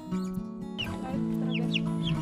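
Chickens cluck and chatter nearby over a steady low hum, with several sharp, rising squawks scattered through.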